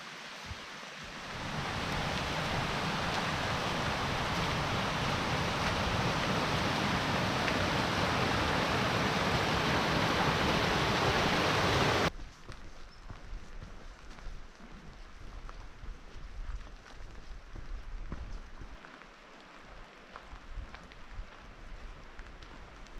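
Rain falling in the Salmo Priest Wilderness at about 5,900 feet with a little snow still on the ground, a dense steady hiss that cuts off abruptly halfway, leaving a quieter, rougher outdoor background.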